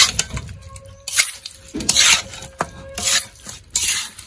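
Raw mutton is mixed by hand with spice paste in a pan (kadai), giving rough, wet rubbing and scraping bursts in uneven strokes, close and moderately loud, with no talking.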